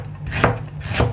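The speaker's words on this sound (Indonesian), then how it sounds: "Nah, kita iris dulu jahenya." A knife slices ginger thinly on a cutting board, with two close, distinct chopping strokes about half a second apart over a low hum.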